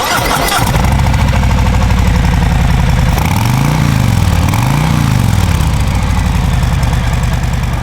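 Harley-Davidson Fat Boy 120th Anniversary Edition 2023 with a Milwaukee-Eight 114 engine idling, a loud, close, deep, steady rumble that rises briefly in two revs partway through, with no talk.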